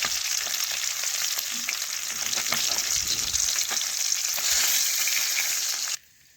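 Fish pieces frying in hot oil in a pan, a dense, steady crackling sizzle heard close and loud that stops abruptly near the end, with no talking.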